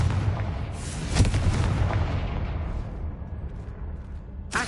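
Confringo fire-blast spells detonate in Hogwarts Legacy combat, a dense roar of booming impacts with a sharp crack around the first second, then fading rumble and a short burst at the close.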